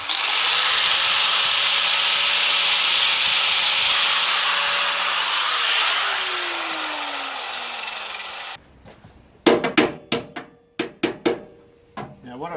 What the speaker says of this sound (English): So I'm just going to take this zinc off.